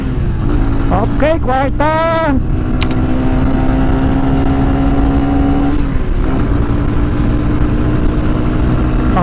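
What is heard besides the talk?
QJ Motor SRV 200 motorcycle revving at full throttle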